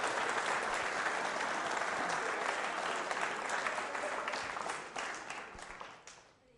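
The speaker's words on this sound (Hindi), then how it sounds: "तालियां बजाइए बाम्बू के लिए जोरदार तरीके से" A school quiz-show audience at Bright Future Public School applauds a student, a dense, fairly distant wash of many hands clapping that fades out over the final second.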